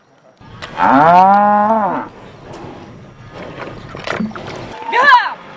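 A cow lets out a long, loud moo up close, followed by quieter rustling and a shorter second moo at the end.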